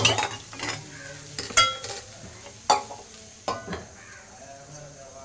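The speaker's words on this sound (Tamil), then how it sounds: "ரசம் தாளிக்க போகிறேன். கொஞ்சம் எண்ணெய் ஊற்றியாச்சு." Oil sizzles softly in a pan while tempering rasam, with intermittent clinks and scraping of a utensil, sharp little bursts standing out over a steady hiss.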